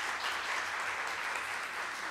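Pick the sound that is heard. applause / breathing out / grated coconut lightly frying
applause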